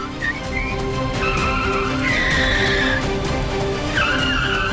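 Tires squeal and screech as a car skids hard to a stop, with several overlapping high whines over a continuous rumbling roar and no speech.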